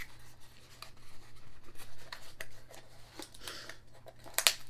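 A small brown cardboard box is pried open by hand without scissors, giving scattered scratching and rubbing sounds, some brief tearing scrapes and a sharp rustle near the end, all fairly close.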